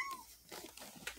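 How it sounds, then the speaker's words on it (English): A house cat meows briefly at low volume in a quiet indoor room, a single faint call with a short rising tone at the start and a soft, light background noise after it. "And that is the cat meowing."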